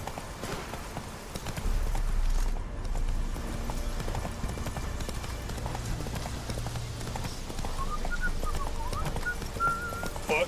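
Horse hooves while riding in the video game The Witcher 3, a steady clip-clop of hoofbeats running throughout, close and continuous, with faint whistling wind and bird-like ambience in the background.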